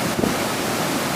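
Water running down Gogo Waterfall, a steady full-band rush with no break, loud and close, mixed with wind buffeting on the microphone.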